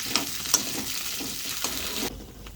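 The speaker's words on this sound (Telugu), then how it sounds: "నూనె వేడయ్యాక ఫస్ట్ మిర్చి వేసుకున్నాం అండి" Green chillies frying in hot oil in a pan: a steady, bright, close sizzle with light stirring taps, which drops away abruptly near the end, leaving a faint residual hiss.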